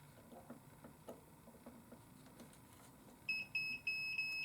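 A multimeter gives a continuity test beep while checking wiring in a BMW E6x 5 and 6 Series headlight assembly: three clear, loud, steady electronic tones near the end, following faint clicks and handling noise.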